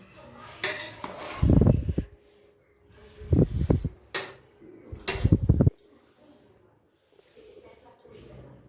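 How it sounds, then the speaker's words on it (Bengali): A spoon scrapes and clanks against a pot while chicken biryani is stirred, in three short bursts of metallic clatter, with someone speaking in between. "এখন আমি একটু নেড়ে দেখব, নিচে লেগে গেছে নাকি"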